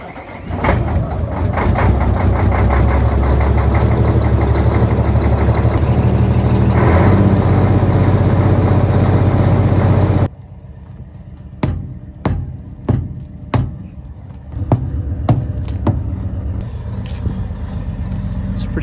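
A truck engine idles loudly on a cold morning with a steady rumbling drone for about ten seconds, then it stops and a series of sharp knocks and clicks follows nearby.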